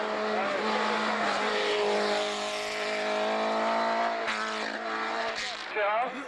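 Renault hill-climb racer with a 1600 Alpine engine, roaring loud and close as it revs hard and holds high pitch, then shifts and fades slightly, with a commentator talking over it.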